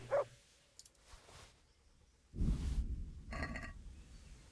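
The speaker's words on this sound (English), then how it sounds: "Oh, that's the dog." A dog in the video game Kingdom Come Deliverance gives a few short barks and huffs, close by, with brief quiet gaps between them and no talk.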